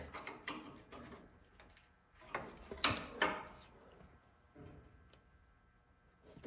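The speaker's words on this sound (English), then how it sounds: "So now we just tighten it up." Tightening a fitting while installing a gauge set on a Massey 50 tractor gives metallic ratcheting and scraping clicks, close and intermittent, with a louder burst in the middle and quiet gaps between.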